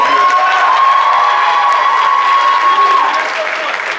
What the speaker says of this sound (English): one more applause for Andrew over there.